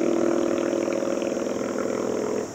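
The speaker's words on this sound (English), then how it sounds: "don't that sound nice for a motorcycle?" A motorcycle engine idles nearby with a steady, loud, throbbing low drone and rapid pulsing beats, easing off slightly at the end.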